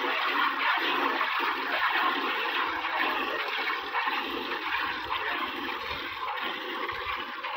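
Milk streams rhythmically into a pail as a Nili buffalo is hand-milked in Punjab, Pakistan, a steady frothy hiss with pulsing squirts, close and continuous.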